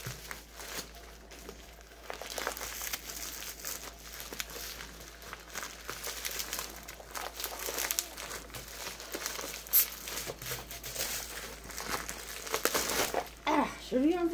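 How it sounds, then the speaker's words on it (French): Paper packaging is unwrapped and crinkled while unboxing a diamond painting kit, giving a continuous close rustle and crackle with sharper tearing bursts and no talk. "Vous voyez, hop, il y a un emballage papier."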